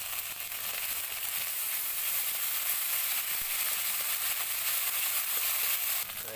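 Garlic and ginger paste sizzles in hot oil with onion and cumin, a steady, close, crackling fry that runs without pause and with no talking.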